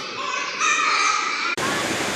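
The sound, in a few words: rushing water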